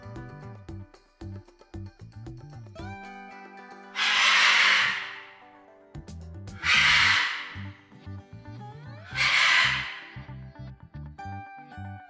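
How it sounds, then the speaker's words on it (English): Three loud, harsh macaw screeches repeat at even intervals over a light, plucky background music track, each call a broad raspy burst lasting about a second and a half. "Macaw."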